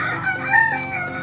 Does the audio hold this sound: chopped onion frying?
no